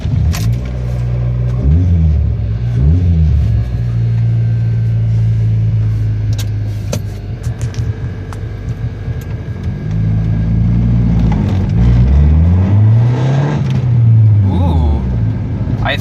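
Car fitted with a cheap aftermarket intake on a short test drive around the block, engine humming and revving up and down through gears from inside the cabin, steady road rumble beneath.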